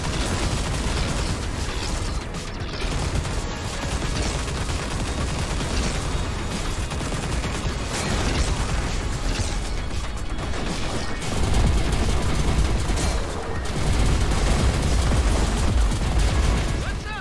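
Turrets built from power crystals fire in the space shooter Everspace 2, a dense, continuous barrage of rapid gunfire and mechanical clatter that stays loud throughout and swells toward the end.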